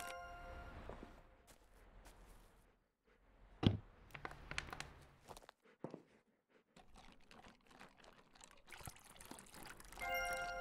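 Water is poured for animals in the video game Animal Shelter Simulator, heard as intermittent faint trickling and splashing with a few sharper clatters and occasional dog sounds.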